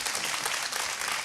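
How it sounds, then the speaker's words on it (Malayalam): Studio audience on a junior singing competition show bursts into dense, loud applause for young singers, a short continuous wash of clapping. "വലിയൊരു കൈയടി അവർക്ക്."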